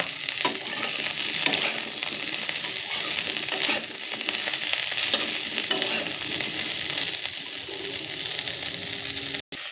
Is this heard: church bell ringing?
no